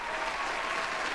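A crowd claps in a brief, dense burst of applause, steady and fairly loud with no voices standing out.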